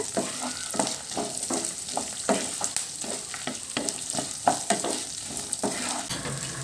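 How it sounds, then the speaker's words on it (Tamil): Small onions and curry leaves sauté in hot oil in a pan, with a steady sizzle under repeated rhythmic scraping strokes of a stirring spoon, close and moderately loud, with no talking. "அந்த வெங்காயத்தோட கலர் லைட்டாக மாறுற வரைக்கும் நல்லா நம்ம எண்ணெயில் வதக்கி விட்டுக்கலாம்."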